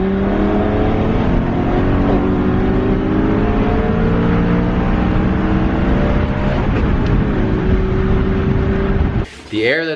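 Supercharged Honda Civic pulling hard, its engine note climbing steadily in a loud, continuous drone under road and wind noise, with a sharp burst of different sound at the very end.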